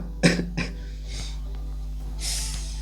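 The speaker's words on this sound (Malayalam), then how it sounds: "ചുമ എനിക്ക്." Two sharp coughs close together, followed by a quieter breathy sound and a faint hiss, heard close up with no talking.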